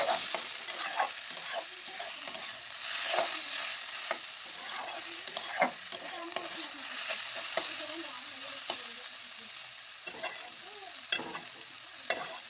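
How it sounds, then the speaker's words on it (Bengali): Pumpkin being stirred in a frying pan as its liquid cooks off, a steady soft sizzle with intermittent scrapes and taps of the spoon, close and moderately quiet. "আরও ভালো করে নাড়াচাড়া করব যাতে জলটা আরও বেশি শুকিয়ে যাক।"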